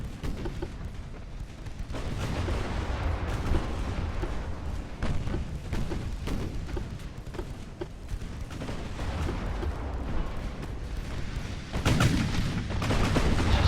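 Naval guns fire again and again during a dreadnought battle at Coronel in Ultimate Admiral: Dreadnoughts, with heavy booming reports and rumbling impacts rolling over one another in a dense, continuous barrage, heaviest near the end.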